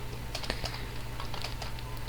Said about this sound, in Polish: było słychać moją klawiaturę